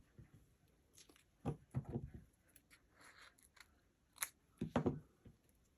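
Scissors cut through cardstock for a handmade card in several short, crisp snips, close and quiet, grouped in bursts with brief pauses between them.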